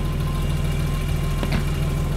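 A BMW E30 325i with the M20B25 straight-six idles on a cold winter start, a steady low rumble with regular firing pulses, close and continuous with a brief rougher blip partway through.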